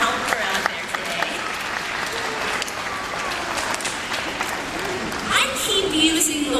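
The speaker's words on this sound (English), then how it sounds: "let's get a round of applause for Sarah for being our helper out there today" Audience applause fills an aquarium show at Chicago's Shedd Aquarium, a steady broad wash of clapping from a crowd, with a voice speaking over it toward the end.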